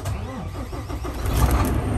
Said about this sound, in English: let me start it up